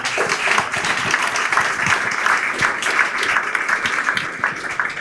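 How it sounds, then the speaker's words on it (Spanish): An audience at a presentation in Peru gives sustained applause, a dense, even wash of many hands clapping that holds steady for the whole stretch with no clear talk over it. "Un aplauso para Augusto, por favor."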